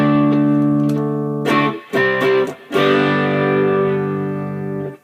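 Electric guitar run through an MXR Custom Badass '78 Distortion pedal dialed toward overdrive, playing loud sustained chords with a few brief choked gaps between them, close and alone with no talking.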